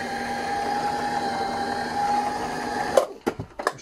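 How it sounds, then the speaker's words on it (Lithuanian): A sewing machine's motor runs with a steady tonal hum and whir for about three seconds, then cuts off, followed by a few sharp mechanical clacks. "Variklis veikia normaliai, vienetuvas sukam"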